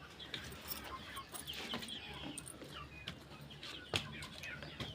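Farm chickens cluck softly and scatter as they are let out, with faint rustling and occasional wing flaps at a low, steady level.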